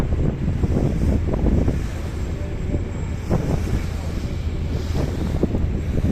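A passenger launch cruises on a river from Dhaka toward Shariatpur, with steady wind buffeting the microphone and water rushing along the hull. Low, gusty rumbling swells and eases throughout.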